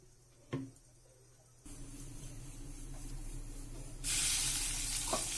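Prawns rubbed with salt and turmeric hit hot oil in a kadai: after a quiet stretch, a steady sizzling hiss starts and then swells into a louder, brighter spray of frying that lasts to the end.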